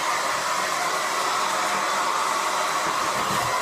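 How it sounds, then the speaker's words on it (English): A hair dryer with baby powder inside blows a steady, loud, hissing airflow with a constant motor whine, running close and unbroken without any speech. "I put baby powder in the hair dryer."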